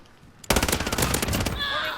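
Automatic gunfire in Call of Duty Modern Warfare, a sudden loud burst of rapid shots lasting over a second before fading into a ringing tail.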